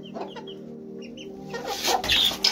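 An Aseel hen clucks nearby in short, repeated notes, then a busier burst of clucking and squawks with rustling as it attacks chicks.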